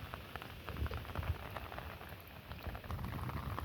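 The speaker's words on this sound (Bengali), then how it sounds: "বৃষ্টিটা ধনের পাতা চারার জন্য যথেষ্ট ভালো হয়েছে" Rain falling on a coriander field, a dense steady patter of drops hitting leaves and soil, soft and somewhat distant with slight surges in intensity and no voices.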